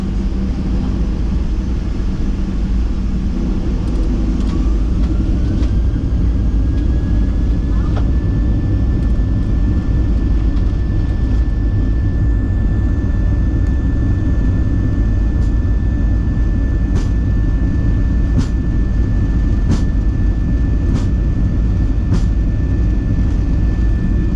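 A Southwest Airlines Boeing 737-7BD takes off from runway 30 right at San Jose, California, its jet engines holding a loud, steady roar with a rising whine throughout, and faint radio chatter in the background.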